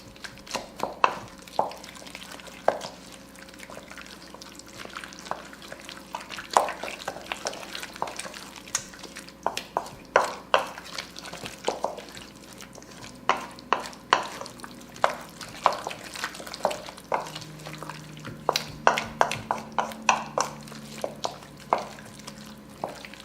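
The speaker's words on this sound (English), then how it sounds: "And I start mixing this all together." Onion cake filling ingredients being stirred together in a bowl for a German Zwiebelkuchen, with soft, repeated scraping and sticky squelching strokes up close, and no talking.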